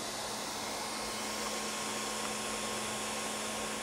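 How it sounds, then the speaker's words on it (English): Constant fans in the power supply and electronics box of a Geeetech A10M dual-extruder 3D printer, a steady broadband whir with a faint tonal hum, unchanging and close. "The fans on the power supply and the electronics box are constantly powered"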